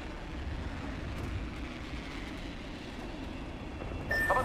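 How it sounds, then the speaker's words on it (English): A train rolls past in the Apex Legends video game, a steady broadband rumble and rattle that holds loud and even throughout, with a faint tonal whine rising near the end. "Hey, train, over there."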